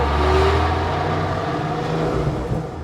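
A 1995 Porsche 911 (993) Carrera RS 3.8 Clubsport's engine pulls hard from inside the car, a close, loud mechanical drone with a sustained tone that climbs through the gears, with no voices.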